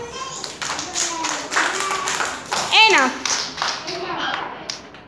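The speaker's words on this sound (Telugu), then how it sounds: "Very good. క్లాప్స్." Children clap together in a steady, lively patter mixed with their own chatter and excited voices, one child's high squeal rising above the group midway through.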